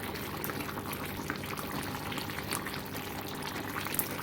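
Jamaican curry chicken back gravy simmers in a pot, giving a soft, continuous bubbling and crackling hiss at low volume with no talk over it.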